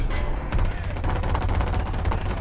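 Rapid automatic gunfire in War Thunder Mobile, a combat game with tanks, warships and planes, aimed at a vehicle's tires. After a short lead-in, the dense, loud bursts run continuously and close by without pause.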